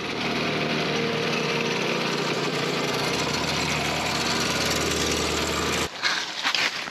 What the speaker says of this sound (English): Right, let's get a whacker in.